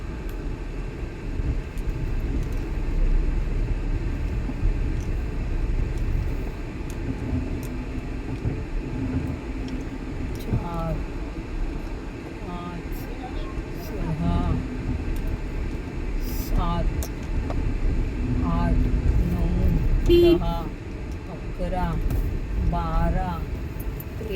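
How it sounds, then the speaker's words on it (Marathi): Traffic jam on Ghodbandar Road: a steady rumble of idling and crawling vehicles, with horns honking in brief, scattered bursts in the second half and a voice talking over the din. "आता इथे गाड्या किती आहेत बघा"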